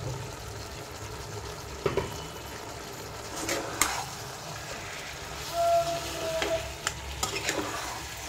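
Vegetables tipped into chicken frying in a pan and stirred: steady sizzle with scraping stir strokes and a few clanks of the utensil, no voices.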